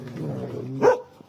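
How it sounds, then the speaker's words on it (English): Two dogs squabble in a shared pen, a short burst of growly vocalizing rising into one sharp bark, close and brief. "two dogs, they're fighting,"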